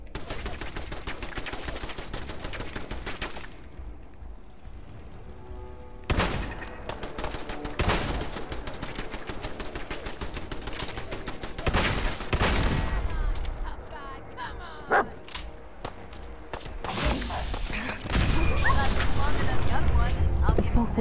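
Shotgun fire in the video game Fallout 4 comes as repeated sharp blasts over a busy stretch of game combat, loud and close, with bursts scattered throughout and a player's voice talking at times.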